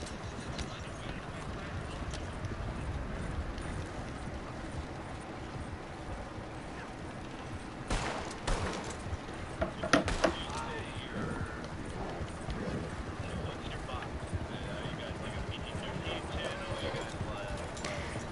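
Horse hooves clip-clop steadily in the western game Red Dead Online, mixed with ambient outdoor game noise and a few sharper clanks midway, fairly faint and continuous throughout.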